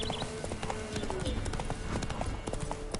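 Roach, a horse in The Witcher III: Wild Hunt on PS5, gallops with fast rhythmic hoofbeats amid game ambience, and a voice speaks over it.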